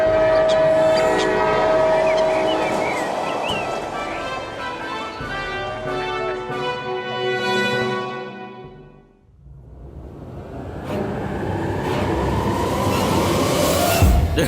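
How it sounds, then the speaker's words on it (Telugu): A cartoon flying train runs past with a rolling mechanical rumble and whistle-like tones, dipping briefly before surging loud again, set against a busy animated soundtrack. "ఫ్లయింగ్ ట్రైన్ లో నేను ఇప్పుడే ఫస్ట్ టైం వస్తున్నాను"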